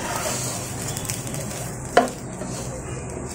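Rice being fried and stirred in a pot for morog polao, a steady low sizzle with scraping spoon strokes and one sharp clink against the pot partway through, close and continuous.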